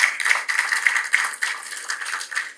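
Audience applause at a hospital agreement-signing ceremony in Georgetown, Guyana: a steady, fairly close patter of many hands clapping with small surges throughout, no voices.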